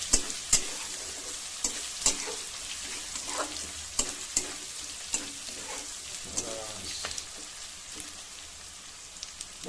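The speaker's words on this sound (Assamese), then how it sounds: "অকণমান আমি ফ্ৰাই কৰি ল'ব লাগিব, নহ'লে কেঁচা লাগিবতো।" Pork and onions frying in a pan without oil, with a crackling sizzle and irregular stirring scrapes and knocks, close and steady throughout.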